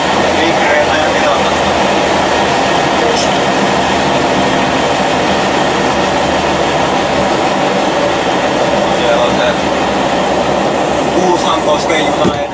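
Kuusankoski train on the Lappeenranta–Kouvola line heard from on board, a loud continuous rumble of wheels on rails with steady roar and faint rhythmic clicks, unbroken throughout.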